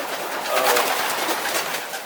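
Racing pigeons coo softly in a loft among breeding cocks and white birds, a steady murmur of overlapping bird calls that swells slightly midway and carries on without pause.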